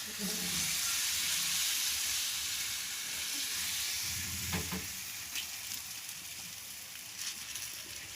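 Oil sizzling and frying on a tawa griddle while making mushroom pitha cake, a loud, steady hiss that eases slightly, with brief scraping stirs and faint voices underneath.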